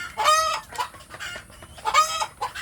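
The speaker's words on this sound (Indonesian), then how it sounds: "Ini seperti ayam yang ada di atas itu sedulur, itu kelihatannya mau bertelur" A free-range village hen, seemingly about to lay eggs, gives a few close, distinct clucks and short calls in two bursts separated by a brief pause.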